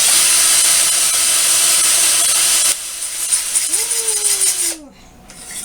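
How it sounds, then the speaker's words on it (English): A power drill bores through an acrylic-pouring mixing tool, giving a loud, steady grinding whir that shifts in tone partway through, then cuts out near the end. "I'm going to drill the other side."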